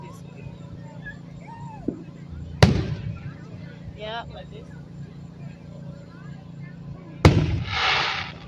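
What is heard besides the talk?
fireworks bursting in Broussard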